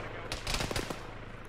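Covering fire in a military video game comes as a quick burst of rapid gunshots, several sharp cracks in close succession under steady background noise.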